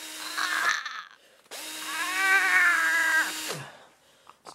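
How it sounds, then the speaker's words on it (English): A dental drill whines while drilling away jawbone, two bursts of high, steady electric whirring, a short one followed by a longer sustained run with slight pitch wavering, close and clear against a quiet room. "we're just going to be drilling away some of the jawbone"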